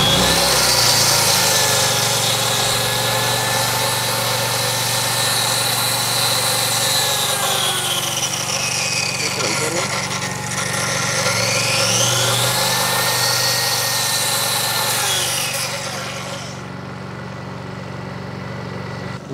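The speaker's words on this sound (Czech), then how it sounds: "tak uslyšíte, že ta centrála si přidá" A Honda EU22i inverter generator engine drones steadily and loudly, its pitch rising and falling as a 1.6 kW saw kicks in and out, then settling lower near the end.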